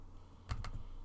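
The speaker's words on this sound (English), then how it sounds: "you can type in the description, or you can add your own text" Two quick, sharp clicks on a computer keyboard sound close by against a faint, low background hum.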